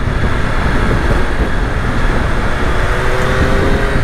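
A 2020 Triumph Street Triple RS motorcycle engine pulls strongly in second gear in road mode, a steady, loud drone mixed with heavy wind rush that holds constant throughout, with no talking.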